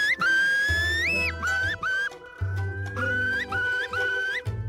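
A man from the Baie de Somme whistles bird song, a loud, sustained run of sliding, warbling notes with rising swoops and trills that imitate a bird's call, heard alone and close.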